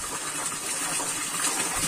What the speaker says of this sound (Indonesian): Kok kados ngano air pancuran